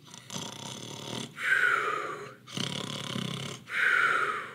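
A voice imitates a bear snoring loudly in a bedtime story, two long rasping in-and-out snore cycles, close and fairly loud, alone.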